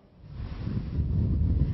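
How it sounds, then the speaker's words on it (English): Strong blizzard wind buffets the microphone on Plum Island, Massachusetts, during a winter storm, a steady low roar that builds louder over the short stretch with no talking. "Blizzard conditions out here."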